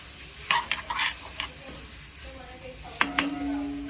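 Sweet vermicelli is stirred with water in a pan, with a spoon scraping and clinking against the metal in short bursts over a faint simmer, close up.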